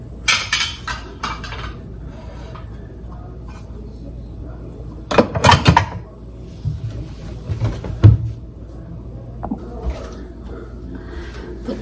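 Cupboard doors and stacked baking dishes clatter in a home kitchen, with a few sharp clinks and knocks of glass and ceramic, loud bursts separated by quieter stretches.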